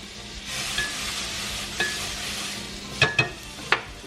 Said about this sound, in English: I'm gonna add some butter to it though